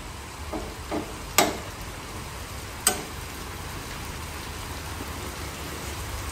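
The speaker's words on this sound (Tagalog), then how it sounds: "Walang tigil pa rin ang ulan sa labas" Steady heavy rain falling outside in Balagtas, a dense continuous patter on surfaces with a couple of sharp knocks and clatters cutting through.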